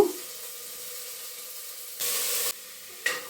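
Cauliflower pieces frying with onion in a hot pan give a steady low sizzle, with two louder bursts of hissing spatter near the end as the contents are moved or stirred.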